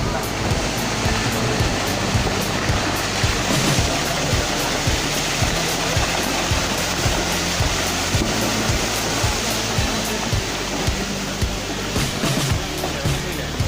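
Loud, constant roar of landslide floodwater rushing and churning nearby, broad and unbroken, with faint rhythmic knocking pulses running underneath.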